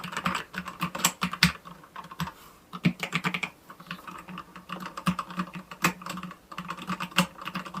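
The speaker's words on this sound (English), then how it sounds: "it's not a loud keyboard, but it's relatively tactile" Steady typing on a ZI YOULANG wireless tactile mechanical keyboard, crisp tactile clicks in uneven bursts, moderately loud and close, with no voices.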